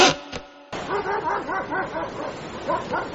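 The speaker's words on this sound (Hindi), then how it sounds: "पर कुत्तों की आवाज जरूर आ रही थी।" Several dogs bark and yip in quick repeated bursts on a beach at night, fairly close and loud, after a brief steady tone at the start; no talking.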